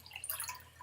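Cold water trickling out of an empty Lagavulin 8 whisky bottle into a glass, a quiet, short splash and drip heard close up with no voices.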